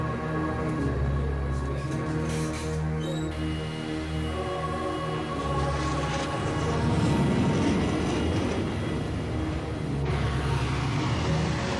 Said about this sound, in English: A North American RA-5 Vigilante hooked up to a steam-driven launch catapult.